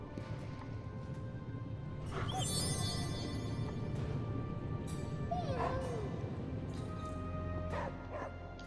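A dog in the video game Marvel's Midnight Suns gives a few short yips and whimpering barks at intervals. The sounds sit over continuous game ambience and music.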